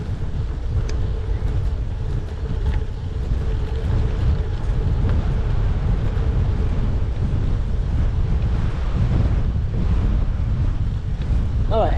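A headwind buffets the microphone while cycling on a gravel road, a loud continuous low rumbling roar with gusty swells throughout.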